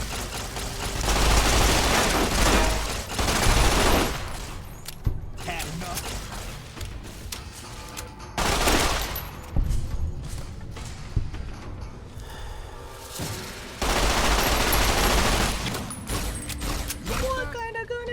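Gunfire in Fallout New Vegas on Very Hard difficulty at the NCR Correctional Facility: loud bursts of shots and mechanical clatter come in several dense clusters over the clip, with quieter gaps between them.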